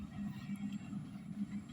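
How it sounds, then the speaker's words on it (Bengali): A train rolls past beside vegetable fields, including pointed gourd plots, giving a steady low rumble with faint rhythmic clatter that holds fairly level throughout the short stretch, with no voices. "ট্রেন চলে যাচ্ছে"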